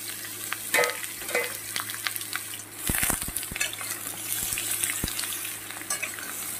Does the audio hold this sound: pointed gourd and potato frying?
yes